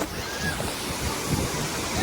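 Sea waves at Devbag beach wash in steadily with broad surf noise and gusts of wind buffeting the microphone, continuous and fairly close.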